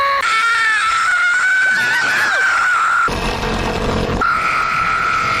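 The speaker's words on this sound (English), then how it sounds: "Let's all scream together." Several high voices scream together at once, a loud sustained wailing chorus with shifting pitch, cutting off abruptly midway and then resuming briefly with one more drawn-out shriek.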